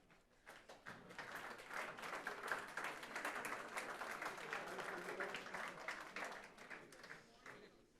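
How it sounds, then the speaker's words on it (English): Audience at a sustainability event applauding as guests come on stage, a dense round of clapping that swells in and stays steady before easing off near the end. "let's give them a big applause while they will join me on stage"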